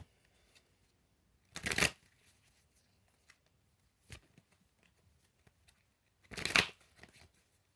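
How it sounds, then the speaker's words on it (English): Two brisk bursts of tarot cards being shuffled, separated by a quiet pause, with a faint tap in between; close and fairly loud, no talking. "All right, one more shuffle."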